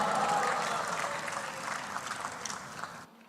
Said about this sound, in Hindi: ये लोग तालियां जो बजा रहे हैं ना